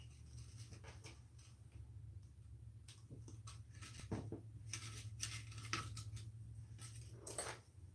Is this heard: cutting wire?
yes